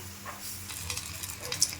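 Kochur loti (taro stolons), wrapped in banana leaf, sizzles softly in a little mustard oil in a pan. A faint, steady frying crackle with a few light stirring clicks, all over a short stretch.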